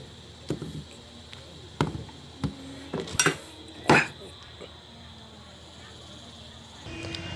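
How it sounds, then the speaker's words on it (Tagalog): Onions and garlic being cut on a board in a home kitchen, a few sharp knife knocks and clatters spaced irregularly, close, with faint background noise and brief voices. "Maghihiwa tayo ngayon ng sibuyas at saka bawang."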